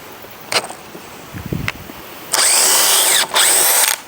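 A DeWALT DCD1007 impact drill driver works under load in a few short bursts, then two long, loud sustained runs with a strained motor whine, each cutting off sharply.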